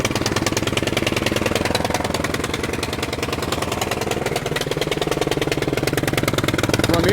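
A Cub Cadet 3X snowblower engine, just pull-started, runs at a fast, even idle with a close, loud, steady pulsing chug and no talking.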